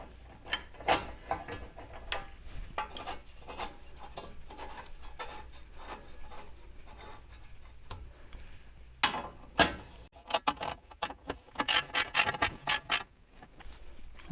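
Ratchet tightening bolts on the front suspension of a C3 Corvette, steering knuckle and hub area, giving irregular close clicking and rasping bursts with scraping handling noise, busiest toward the end, with no talk.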